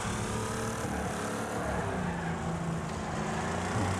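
Race car engines in the Wreckfest video game, a steady loud drone of several revving motors with shifting pitch as the cars jostle around the track, no talking.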